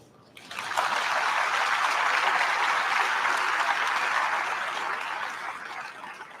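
An audience applauds members of a high school National Honor Society at an induction ceremony, a dense, sustained clapping that rises quickly, holds strong, then gradually thins out.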